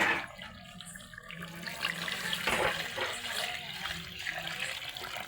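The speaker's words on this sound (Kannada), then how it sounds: "ಈಗ ಇದಕ್ಕೆ ನೀರು ಹಾಕೋತೀನಿ ರೀ ನೀರು ಹಾಕಿಬಿಡ್ತೀನಿ ರೀ" Water pours into a pot of country chicken curry as it cooks, a continuous splashing gush that swells in the middle and then settles, heard close with no talking.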